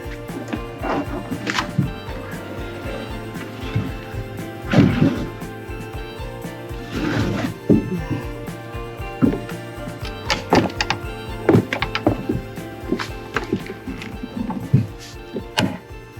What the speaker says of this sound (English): It's always a big moment when the rudders go back on.